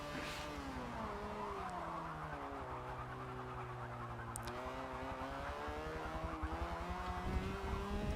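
A VW race car in the Forza 7 video game brakes with tires squealing while its engine whines through shifting revs, rising and falling, heard quietly throughout.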